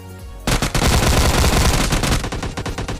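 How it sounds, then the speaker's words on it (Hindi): Rapid shotgun fire from an S12K in the mobile battle royale PUBG Lite, a dense, loud string of blasts starting abruptly and continuing almost without pause to the end. "मैं यहाँ पे S12के चला लेता हूँ"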